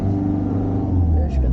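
A car engine rises in a sustained, loud rev during a driving lesson as the accelerator is pressed, a steady low rumble filling the whole moment with no talk over it.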